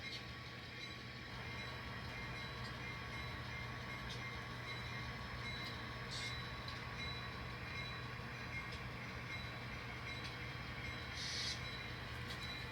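N scale model train hauling loaded cement and sand hoppers, a faint steady low hum and rumble running without a break, with a couple of soft high clicks along the way.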